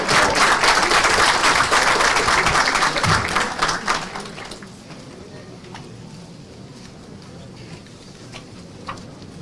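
Loud audience applause at a legal seminar on the new Code of Criminal Procedure fills the first four seconds, then fades to scattered claps and quiet room noise.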